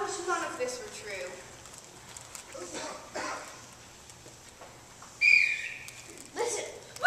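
In a Treasure Island radio-style drama, a short high whistle sounds from outside, faint and brief, among murmuring voices and quiet room tone, then another faint tone follows.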